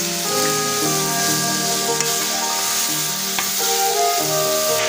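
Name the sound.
meat and pepper sizzling while being stir-fried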